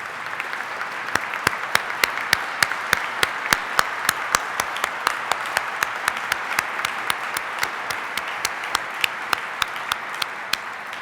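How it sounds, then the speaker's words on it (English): Steady applause from an award ceremony audience, sustained sharp handclaps spread evenly through the room with a few louder claps standing out near the listener, continuing without voices. "They deserve a round of applause too."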